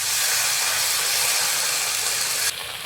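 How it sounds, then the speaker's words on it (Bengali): Water poured into a hot pan of ground chili and garlic paste, giving a loud, steady burst of sizzling steam and hiss that drops slightly near the end, heard alone. "কষানোর জন্য একটু জল দিয়ে দেবো।"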